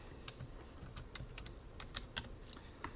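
Steady keystrokes clatter on a computer keyboard while text is typed into a 3D modeling program, with irregular crisp clicks spread over a few seconds, close and fairly quiet, no talking.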